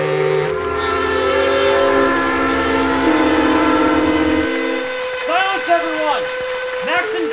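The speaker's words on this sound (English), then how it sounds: "the two engines blew their whistles as long and loudly as possible for everyone to hear" Two model railway locomotives sound long, loud whistle blasts together at a museum opening, steady sustained tones dropping away near the end, followed by shorter rising whistle calls.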